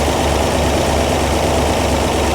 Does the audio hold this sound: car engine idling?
yes